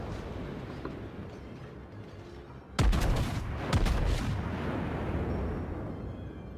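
Naval main battery guns fire in World of Warships on a New York battleship: a sudden heavy boom followed by a second salvo about a second later, each rolling into a long rumbling decay over quiet engine ambience.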